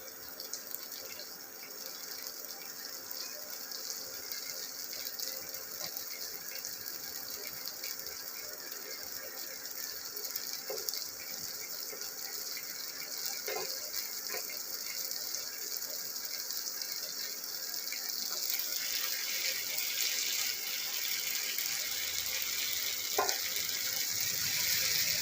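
Breadfruit pieces frying in ghee in a pan give a steady, close sizzle and hiss that grows slightly louder over time, with a few faint clinks and scrapes of turning.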